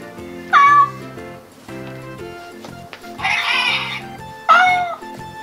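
A battery-powered toy cat that gives birth to kittens makes angry electronic meows in three sharp bursts over a steady looping electronic melody.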